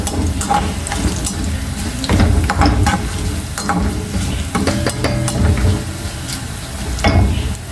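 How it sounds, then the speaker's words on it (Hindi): Cumin seeds frying in oil with golden-browned ingredients in a pan, a steady close crackling sizzle with scraping stir strokes and clinks throughout, loud and continuous with no voices. "तो आप इसमें 1 टेबलस्पून जीरा ये इसमें ऐड कर देंगे। हल्का सा और फ्राई करेंगे।"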